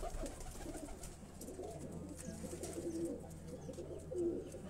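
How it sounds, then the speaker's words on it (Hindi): Pigeons coo on a rooftop, soft and low, with a steady murmur of cooing over faint background ambience and no talk. "इसी तरह एक और कबूतर आप देखें, ये कबूतर भी आप देखें"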